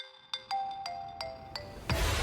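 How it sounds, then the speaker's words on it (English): A faint telephone-style ringing drifts from upstairs in a quiet house, a few evenly spaced chiming rings with a soft hiss rising at the end. "A faint ringing sound, but it wasn't coming from the phone"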